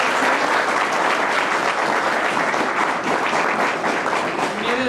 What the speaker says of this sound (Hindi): उनको आप ताली बजा के धन्यवाद दीजिए